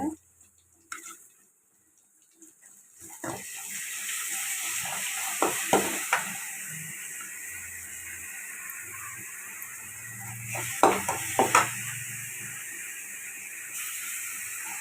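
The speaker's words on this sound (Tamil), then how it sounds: "கருவேப்பிலை, கொத்தமல்லி நல்லா வதங்கட்டும்" Onion, ginger-garlic paste, curry leaves and coriander sautéing in a pan for rava kitchadi, a steady hiss and sizzle with occasional spoon scrapes and clinks against the pan, loud and close.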